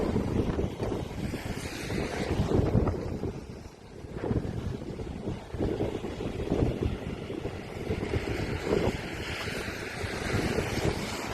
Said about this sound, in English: massive waves crashed over barriers